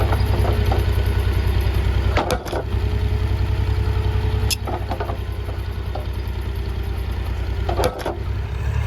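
A tractor engine runs steadily nearby, a loud continuous low idle with a chugging pulse and a few sharp clanks over it, no talk.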